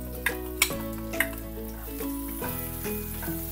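Garlic and onion sauté in a pan, a faint, steady sizzle with a few light utensil taps, while soft music plays in the background.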